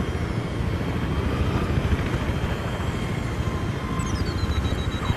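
A helicopter in the video game Battlefield 3 drones steadily as a dense, constant engine and rotor roar filling the whole stretch, with a faint rising whine near the end.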